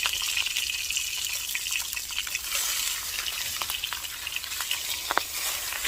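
Pork belly sizzles and crackles in a pan on top of a car, a steady loud frying hiss with scattered pops and the occasional stir, continuous throughout.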